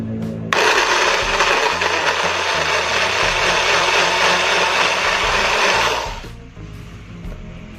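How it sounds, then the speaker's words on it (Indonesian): A blender grinding spices with water whirs loudly and steadily for several seconds, a harsh high-pitched roar, then cuts off. "Sekarang kita akan menghaluskan bumbu yang akan di blender"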